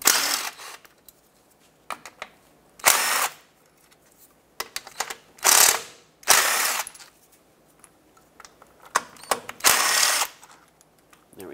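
Ratchet clicking as 10 mm bolts come out of the transfer case shift motor on a Ford F-150, with several bursts of rapid clicks and mechanical rattles separated by short pauses, close up.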